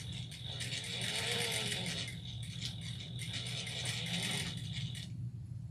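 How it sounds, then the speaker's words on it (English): A sewing machine top stitches an eighth of an inch from the folded fabric edges, producing a quiet, rapid mechanical whirr of stitching that runs for about five seconds, then stops. "now I'm going to top stitch 1/8 of an inch away from the folded edges on the very bottom"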